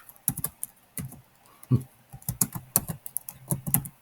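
Computer keyboard keys tapped while entering values in AutoCAD, a quick irregular patter of close, crisp clicks in short bursts with brief pauses between.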